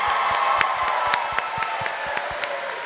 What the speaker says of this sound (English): Give it up for Erica, everybody.